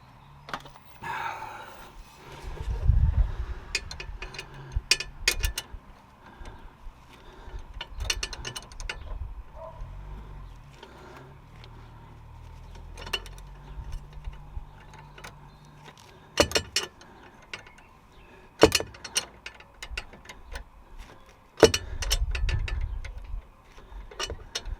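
Ratcheting spanner on a Mini R50 tie rod in a cramped space: sparse mechanical clicks and short ratchet bursts, close but fairly quiet, separated by pauses and occasional knocks.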